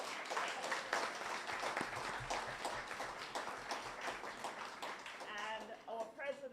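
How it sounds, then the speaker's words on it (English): A university college foundation audience claps for a visiting officer during a research spotlight event, a dense rolling applause of many hands that stays steady throughout while voices talk over it near the end. "Clap him again."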